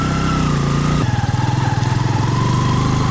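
A Bajaj Boxer 125 motorcycle engine drones loudly and close while riding off-road, a steady throbbing note that drops in pitch partway through and settles into a pulsing rhythm.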